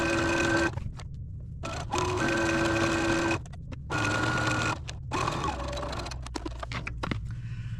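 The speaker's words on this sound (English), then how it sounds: "now I'm going to take this over my machine and I am going to stitch" A sewing machine stitches a 3/8 inch seam across a pillowcase in several bursts of fast, whirring mechanical chatter, pausing briefly between runs, close and fairly loud.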